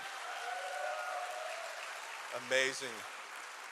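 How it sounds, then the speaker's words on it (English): An audience at a prayer-ministry dedication event in Fort Wayne claps for the local intercessors, a steady, full round of applause throughout, with a single voice briefly speaking over it. "please give them a round of applause"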